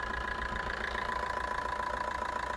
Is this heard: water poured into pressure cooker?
no